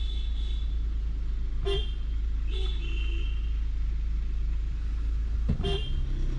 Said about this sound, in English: I am honking horn.